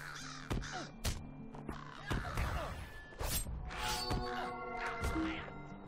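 Several crows caw harshly in the video game Lord of the Rings Online, repeated calls overlapping close by alongside sharp whacking impact hits, over a game soundscape with no voices.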